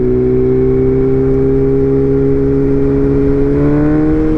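A BMW M1000R Competition motorcycle fitted with a titanium header and mid pipe holds a loud, droning exhaust note, its steady harmonic tone rising slightly near the end, close and dominating.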